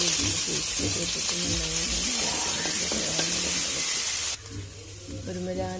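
Mustard seeds, fenugreek and ginger sizzle and spit in hot oil for mango pickle, a close, steady hiss that drops slightly near the end, with background voices and music underneath.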